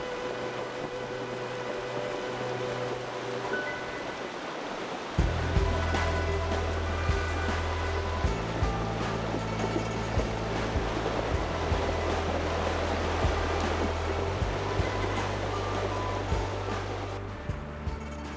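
A muddy river in the Mustang region of the Himalaya rushes past in a continuous broad roar, with a low droning hum underneath and no voices.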